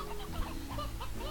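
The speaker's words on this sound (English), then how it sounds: "So many chickens." In Slime Rancher, a few chickens give soft, brief clucks over a steady low game soundtrack, with no one talking.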